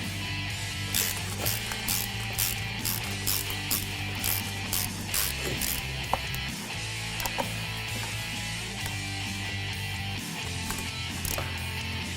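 A ratchet tightens the bottom plate hardware on a short-throw shifter for a 2015-2023 Mustang GT, with rapid repeated clicking bursts in steady strokes, close and loud over a constant background hum.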